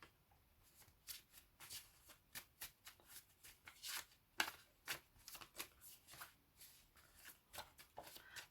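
Tarot cards shuffled by hand in quick, crisp riffling bursts, about a dozen close, faint ruffles in an uneven rhythm with short pauses, alone without talk.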